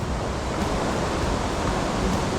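River water rushes steadily out at a rapids in the upper reaches of Jelebu, a dense, continuous roaring wash with no breaks and no voices.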